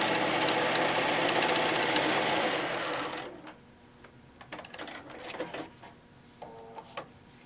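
A sewing machine runs steadily for about three seconds, stitching quilt blocks with a quarter-inch seam, then stops, leaving faint handling clicks and rustles.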